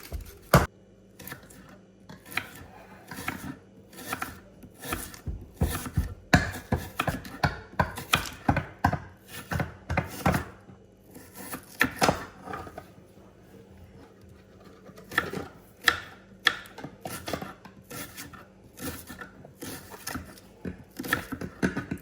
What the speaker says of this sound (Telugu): నెక్స్ట్ ఒక ఆనియన్ తీసుకొని దీన్ని చిన్న చిన్న స్లైసెస్ కట్ చేసేద్దాం.